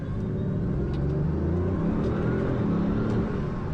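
A Bugatti Veyron accelerating in first gear, heard from inside as a steady, dense low rumble and whir that holds at an even level for a few seconds with no talking.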